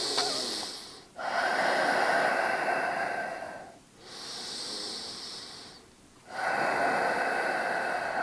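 Forceful breathing through the nose during a fitness exercise, mimicking Darth Vader: long, loud, hissing inhales and exhales in a slow repeating cycle, close to the listener, with brief pauses between breaths.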